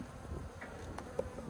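Saskatraz honey bees buzz softly in a busy hive, a faint, steady hum with a few brief individual passes close by.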